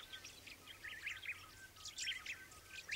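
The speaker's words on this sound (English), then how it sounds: "The Bourke's parrot." Bourke's parrots call at a cattle trough on a station in Western Australia, giving repeated soft, high chirps and twittering notes from a small flock, fairly close, with no other sounds.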